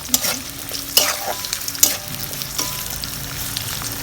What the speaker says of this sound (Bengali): পেঁয়াজটা তাড়াতাড়ি ভাজা হয়, একটু লবণ দিলে না।